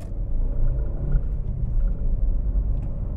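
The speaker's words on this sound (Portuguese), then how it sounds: "Vou fazer um testezinho de aceleração" Volkswagen Voyage car with a low, continuous engine rumble, steady and close, holding a dense low drone through the whole stretch with no talk.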